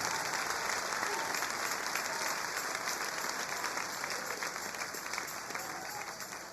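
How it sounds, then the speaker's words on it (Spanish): Church congregation applauding during a Spanish-language sermon, a steady, even wash of many hands clapping that continues throughout at a moderate, slightly distant level and fades a little toward the end. "Dale ese aplauso al Rey."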